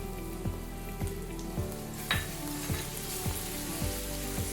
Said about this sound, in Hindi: अदरक लहसुन को अच्छी तरह फ्राई करेंगे